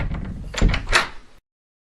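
A door opens with a short wooden creak and a dull thunk, a brief close sound lasting just over a second before silence.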